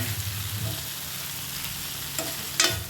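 Brinjal poriyal sautéing in a pan, a steady low sizzle with occasional stirring scrapes and a louder clatter near the end, close and continuous.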